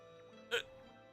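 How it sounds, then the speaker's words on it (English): A single short hiccup, faint and close, stands out briefly against quiet game music. "Oh, the hiccups are gonna kill me."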